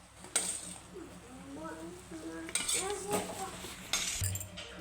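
Cooked drumsticks being lifted out of a pot into a plate, a few sharp metallic clinks and scrapes of a spoon against steel, with faint voice-like sounds in between.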